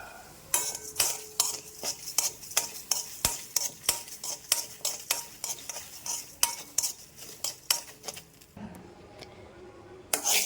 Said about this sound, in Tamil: அதே நேரத்தில் இன்னொரு கடாயில் சூடு பண்ணி கழுவி வச்ச பச்சரிசி ஆட் பண்ணி அதையும் பொன்னிறமாக வறுக்கணும்